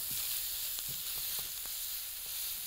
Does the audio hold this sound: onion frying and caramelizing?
yes